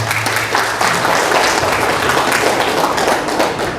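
Steady audience applause at a student-hosted candidate forum for regional leadership, continuous dense clapping from a crowd at constant loudness, no talking.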